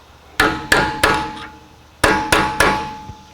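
Six sharp metal hammer strikes stake the axle nut on an Acura MDX during rear wheel bearing work, falling in two quick groups of three with ringing decay after each blow, close and loud.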